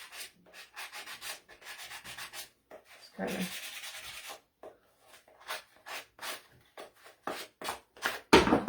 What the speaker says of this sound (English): I get it off with the sanding block if I can get it in there.